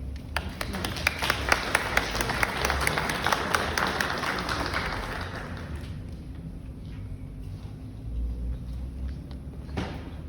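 Audience applause welcoming a speaker named Jane at an exhibition opening, steady clapping from a crowd that fades out after about five seconds into quiet room tone.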